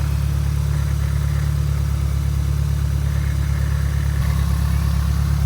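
A Peugeot 206 car engine idles steadily and close by, a constant low rumble with no voices throughout.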